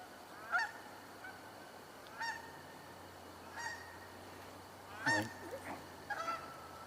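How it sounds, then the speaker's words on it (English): Distant geese honk outdoors in a series of spaced single calls, a little louder near the end, over a faint steady background hum. "I hear another goose in the air"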